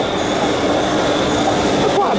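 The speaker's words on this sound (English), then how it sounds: "Here we go on the train." An indoor theme park train ride rumbles along its rails, a loud continuous roar with faint squealing, while a voice talks briefly over it.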